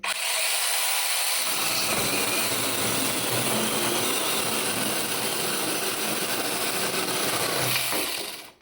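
A cordless LEADER mini chainsaw cuts through dry hornbeam, starting after a brief pause with a loud, continuous buzzing whine and chattering bite into the wood, then cutting off abruptly at the end.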